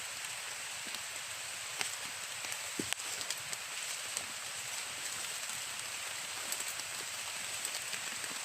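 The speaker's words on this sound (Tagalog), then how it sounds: "Malakas na ang ulan dito." Heavy rain pours steadily outdoors, a dense continuous hiss of drops on surfaces with a few sharper nearby splats, no voices.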